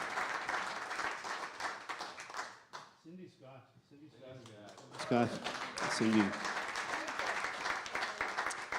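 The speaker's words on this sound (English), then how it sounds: "Give him a huge round of applause." Audience applause for a jazz piano trio with vocalist, dense clapping that fades into a brief spoken announcement mid-clip, then swells again loudly while a voice continues over it.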